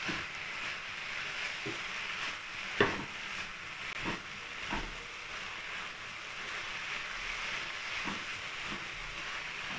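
Carrot halwa stirred and roasted in desi ghee in a pan, with a steady soft sizzle and scraping stirs at irregular intervals, moderately close with no talk.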